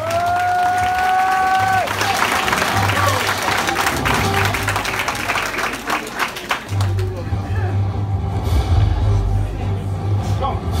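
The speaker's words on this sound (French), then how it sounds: "On les applaudit s'il vous plaît." A crowd at a kizomba event in Guadeloupe's Hôtel Karibea breaks into sustained applause with some cheering, loud and dense across the whole stretch, over background music and babble.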